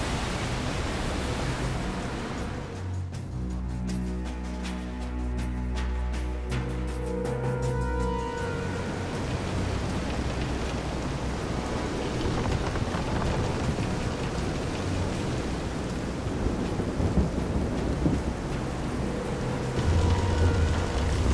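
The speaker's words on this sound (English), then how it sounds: "This is some storm." Storm in the Visions of Mana video game, with heavy steady rain hissing across the scene, low rumbling thunder swelling partway through, and tonal game music faintly mixed in, loud and continuous.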